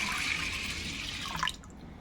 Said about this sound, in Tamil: இப்போ நம்ம வந்து தண்ணி ஊற்றி ஊற வச்சுக்கலாம்.